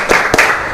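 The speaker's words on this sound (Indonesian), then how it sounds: "anak-anak melakukan ya tepuk semangat" Fifth-grade schoolchildren in a classroom clap a rhythmic 'tepuk semangat' spirit clap, two sharp, close group claps landing in quick succession.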